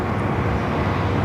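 A Korean Air Boeing 747-8i airliner begins to taxi, producing a steady, broad jet-engine roar heard at a distance with no talking.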